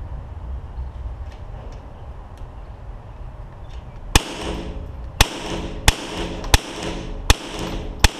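Six sharp gunshots crack at a gun range after a few seconds of low background rumble, spaced roughly a second apart, each loud and close with a short decaying tail.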